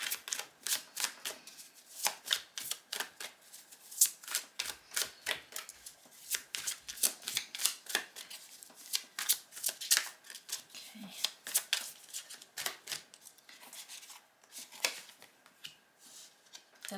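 Tarot cards shuffled by hand for a reading: a long run of quick, crisp riffling flicks close up, with brief irregular pauses between bursts and no talking.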